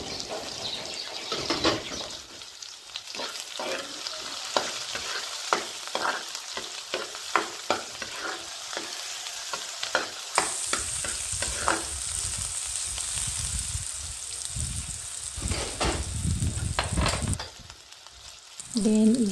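Chopped onion sizzles in a hot frying pan while a spatula stirs it, scraping taps landing in an uneven rhythm over a steady hiss, close and fairly loud throughout, with no talking.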